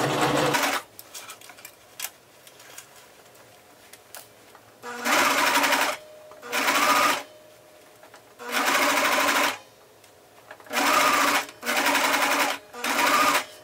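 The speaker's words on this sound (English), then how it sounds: "now I'm going to sew back up this line." A sewing machine stitches a seam on a dashiki shirt in several separate runs of steady whirring, each lasting about a second or two, with short quiet pauses between them.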